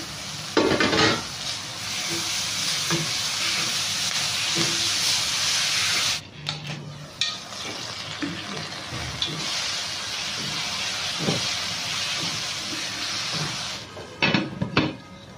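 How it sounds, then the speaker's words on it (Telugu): Frying in a pan, a steady close hiss and sizzle of hot oil lasting throughout, broken by a brief pause and occasional scraping clinks of a utensil against the pan. "ఆల్మోస్ట్ మనకు ఫ్రై అయిపోయిందండి"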